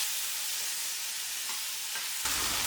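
A big tomato drops into a pan of aromatic spices with garlic and ginger paste, setting off a loud, steady, close sizzle that fills the whole stretch, swelling slightly near the end, with no talking.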